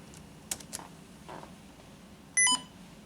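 A few keystrokes tapped on the keyboard of an NEC PC-9821Nr15 PC-98 laptop, sparse and close, followed by a short, bright electronic beep from the machine.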